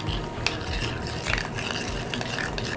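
Shrimp being stirred into a sour cream dressing, producing wet squelching and scraping clicks in an uneven, close rhythm with a low background hum and no voices.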